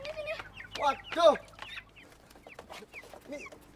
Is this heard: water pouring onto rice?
no